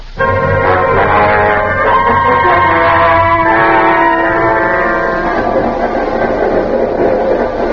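A radio drama sound effect of a train running, a loud continuous rumble and clatter with ringing tonal overtones, steady throughout with no speech.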